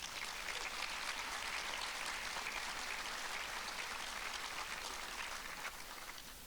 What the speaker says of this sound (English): please give them a round of applause as well